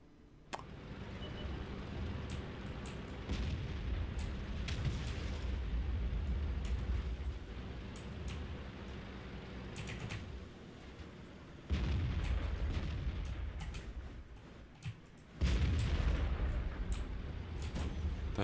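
Tank cannon fire and explosions from World of Tanks gameplay sound over a steady engine rumble, with sharp booming shots at irregular intervals and louder heavy blasts near the end.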